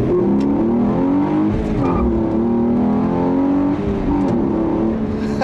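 A 2015 Hyundai Genesis Coupe with the 3.8 engine accelerating hard, its loud, close engine note climbing steadily in pitch with a brief dip partway through, and no talking.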